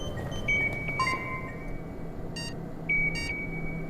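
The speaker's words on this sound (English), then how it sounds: "I don't remember that particular beeping" Electronic beeps sound in a spaceship control room in the video game Don't Escape, short bright tones repeating at uneven intervals over a low background hum.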